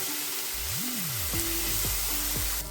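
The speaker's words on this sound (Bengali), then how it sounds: "এবার এই সমস্ত জিনিসটা একসঙ্গে একটু ভেজে নিচ্ছি" Ground spices fry in a pan with a splash of water for an aloo kachori filling, giving a steady, even sizzling hiss, with a few gliding tonal notes sounding over it.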